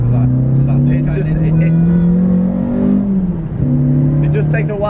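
A Renault Clio 172 engine drones steadily from inside the cabin, pitch rising slowly under load, then dipping and climbing again at a gear change, with people talking over it.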